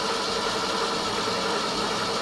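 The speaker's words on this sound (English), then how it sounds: "Chris, let's see if she'll crank." A 1969 Mustang Mach 1 engine cranks over steadily with fresh plugs, wires and set base timing but does not start, giving a loud, continuous mechanical churn with no break and no talking.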